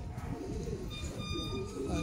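Pigeons cooing softly at a training loft, low steady murmuring coos running continuously through the clip, with faint chirps and bits of background voice.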